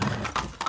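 Horse hooves clip-clop in the Far Cry 6 video game, a few close, distinct hoof strikes in a short burst with no talking.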